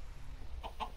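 A chicken clucks in a video game, giving a few short, quick clucks near the end of a low rumbling background.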